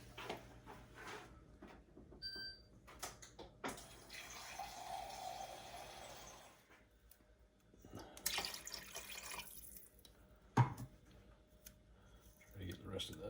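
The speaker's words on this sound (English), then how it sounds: "Take these cans and fill them up with water." Tap water runs into empty cans while a stove heats for chicken and dumplings, a broad splashing rush swelling and fading in bursts, with brief clatters and voices talking around it.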